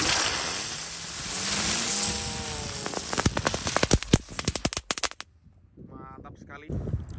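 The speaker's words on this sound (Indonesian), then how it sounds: "Selanjutnya ini ada mercon teratai. Ada 5, kita nyalakan sekaligus ya." Five lotus firecrackers lit at once: a hissing, whistling fizz builds first, then a rapid irregular string of sharp cracks and pops, loud and close, fading into scattered crackles with a voice at the end.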